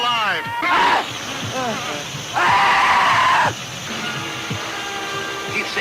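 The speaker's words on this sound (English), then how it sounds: "Listen to those screams." Horror film audio carries repeated wailing screams, with a loud noisy burst of shrieking in the middle and voices around them.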